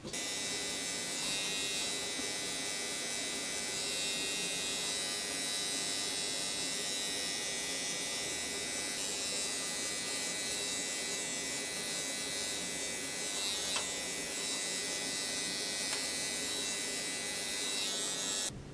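An electric razor buzzes steadily and close up for the whole stretch while shaving hair off a head, a continuous hum with slight shifts in pitch as the clippers move across the scalp.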